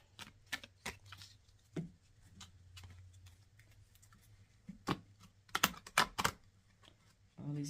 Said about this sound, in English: these are the worst cards to shuffle